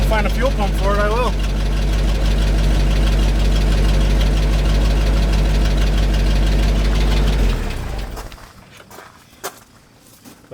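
A 1975 GMC C6000 truck engine idles loud and close with a rough, knocking mid-range rumble, holding steady for about eight seconds before it cuts off, leaving quiet shuffling.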